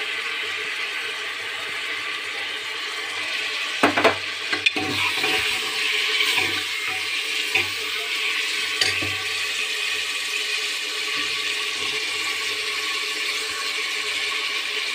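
Garlic sizzles in a hot pan while kate masale ka gosht is being cooked, a steady crackling hiss throughout with a few clinks and stirring knocks in the middle.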